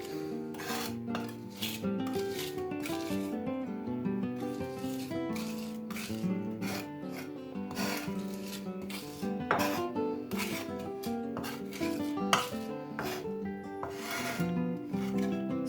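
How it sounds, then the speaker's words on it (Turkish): Garlic is crushed with salt for a dry cacık meze, making a steady run of rhythmic close rasping and grinding strokes against a hard surface, with occasional light clinks and no speech. "Sarımsağımızı eziyoruz."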